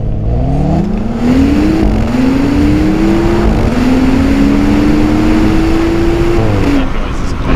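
A BMW 135i engine accelerates hard, its pitch climbing steadily, with several quick gear changes marked by brief dips before it rises again.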